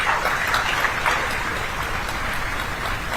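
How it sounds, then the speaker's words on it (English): Sustained audience applause at a university international higher education fair inaugural ceremony, a dense steady wash of many hands clapping throughout, fairly loud and continuous with no talk over it. "Let's give a huge round of applause."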